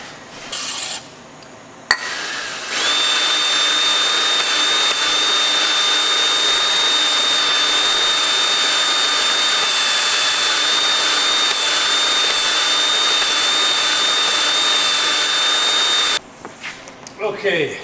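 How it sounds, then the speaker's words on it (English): A wire wheel grinds steadily against the metal upper and lower engine bores of a 1693 Cat engine, a loud continuous rasping whine that holds for about fourteen seconds before cutting off, with brief quieter handling noise at either end. "I got the wire wheel and I'm cleaning up these upper and lower bores."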